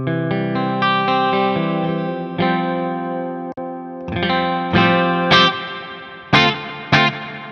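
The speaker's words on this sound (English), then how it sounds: "let's go for a clean sound with some lush reverb" A REVV Dynamis pedal gives an electric guitar a clean tone drenched in lush reverb: sustained chords and plucked notes ring out and decay smoothly, with several sharp strums later, loud and close, no speech.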